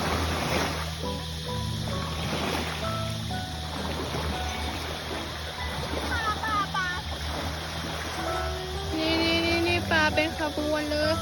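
Sea waves wash and splash steadily around a yacht off Phuket, a continuous broadband surge with boat engine hum beneath, while people talk over it and high chirping tones appear toward the end.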